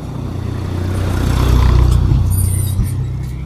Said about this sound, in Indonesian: Nah, truk-truk seperti ini yang lewat,